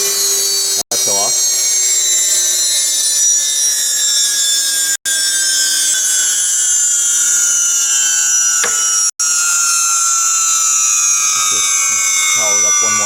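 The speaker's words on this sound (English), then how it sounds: "I'll shut it down once and let it wind down" A Technica ZSM-5100 center hole grinder spindle spins down after switch-off, its high whine gradually sliding lower and fading while brief clicks and faint noises sound nearby.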